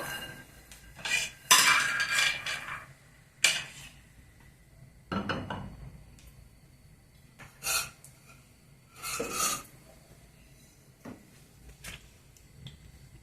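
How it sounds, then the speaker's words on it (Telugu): Roasted peanuts are scooped out of a pan onto a plate, giving a run of scattered metallic scrapes, clinks and rattling spills, close and intermittent in a quiet kitchen. "వేరుశనగ విత్తనాలు వేగిపోయినాయి ఇంకా తీసేద్దాము పక్క ప్లేట్లోకి తీసి పెట్టుకున్నాము"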